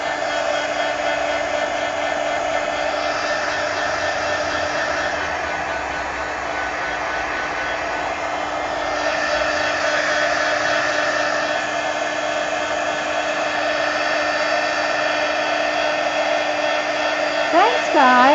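A handheld dryer blows steadily and close over a mixed media art journal page, a continuous whirring rush that shifts slightly in pitch as it moves, with a voice speaking faintly underneath.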